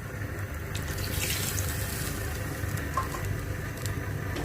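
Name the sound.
water poured into pot for chicken pulao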